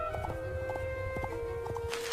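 Hooves clip-clop steadily as a horse is ridden into a forest, an even walking rhythm of soft thuds over a sustained musical drone.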